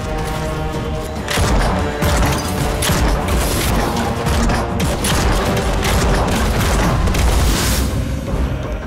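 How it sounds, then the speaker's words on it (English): Rapid rounds of booming explosions from a Nosgoth video game cannon firing trios of small bombs go off back to back, loud and dense, with crashing debris and mechanical clatter layered throughout, no voices. "It fires a trio of smaller bombs simultaneously for less individual damage, but more consistent area destruction."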